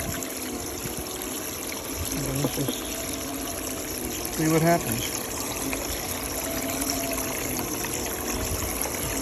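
Water trickles and runs steadily down a spiral wheel gold panner outdoors, a constant wash of flowing liquid with brief handling clunks and someone speaking over it.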